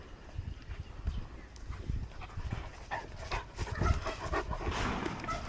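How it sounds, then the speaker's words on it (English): Dog barking from behind a backyard fence, with repeated rough bursts and panting at moderate distance over steady outdoor background noise. "That's Maggie barking"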